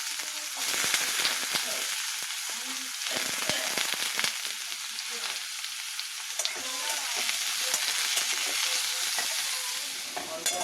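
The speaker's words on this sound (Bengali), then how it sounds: "সবজিটা একটু ভাজা ভাজা হলে সুজিটা দেবো" Vegetables frying in hot oil seasoned with black cumin and dried red chilli, a loud, continuous sizzle with bursts of crackling and the scrape of stirring throughout.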